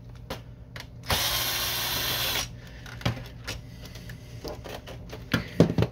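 A power screwdriver removes screws from the control panel of a Canon Pixma MG5220 printer, a single whirring burst of about a second followed by scattered light clicks and plastic handling, with no talking.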